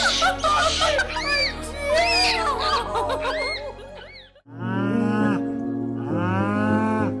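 A cow calls out with loud, drawn-out moos, the second half bringing two long bellowing cries separated by a short pause; it is a cow reunited with her calf after the calf was taken to a veterinary hospital with severe pneumonia.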